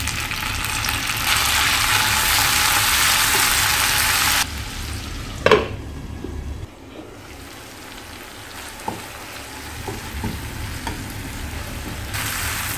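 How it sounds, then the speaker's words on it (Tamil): Tomatoes sautéing in a pan with mustard seeds, urad dal, cumin, onion and curry leaves, a steady sizzle that quietens partway through, broken by a few soft stirring knocks. "தக்காளி நல்லா வதங்கிடுச்சு."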